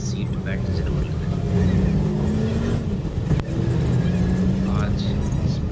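A Gypsy driving off with its engine droning steadily, a low hum with slight pitch shifts and one brief knock, close and continuous under a faint background voice.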